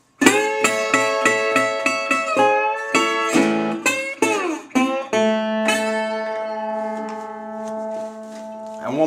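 Acoustic guitar plays a song's introduction in the Delta blues style, fast, with a run of quick plucked notes before ringing into sustained chords; played alone, no voice.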